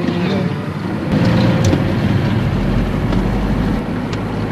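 A vehicle rolls along slowly with a steady low engine rumble and gusts of wind buffeting the microphone throughout.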